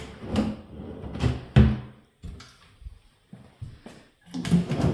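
Bathroom vanity drawers being opened and shut, several close wooden thumps and sliding knocks in an irregular sequence, moderately loud in a quiet room.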